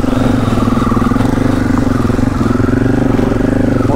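Enduro motorcycle engine held in a wheelie on rocky ground, a loud, close, steady mid-pitched drone with a fast, even firing pulse throughout.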